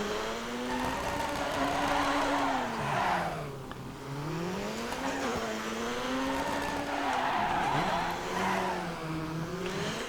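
A rally car in the DiRT 3 video game revs hard while the handbrake throws it into repeated sliding skids, tires squealing and engine pitch rising and falling in loud, continuous waves.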